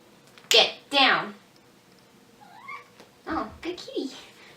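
A domestic cat meows several times in drawn-out, wavering calls, loud and close, with a person talking nearby in a home setting.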